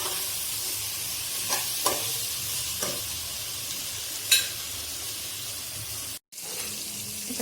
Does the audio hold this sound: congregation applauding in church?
no